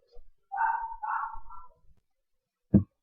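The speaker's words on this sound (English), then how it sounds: "And those are the other dogs that bark a lot." Dogs at home: a drawn-out whining, yelping call is followed after a pause by one short, sharp bark, all fairly close in an otherwise quiet room.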